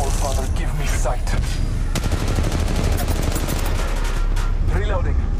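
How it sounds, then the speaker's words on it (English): Rapid automatic gunfire in the Apex Legends mobile battle royale game, dense bursts of shots crackling nearly throughout at close range, mixed with game effects and a character voice speaking. "Getting shot at"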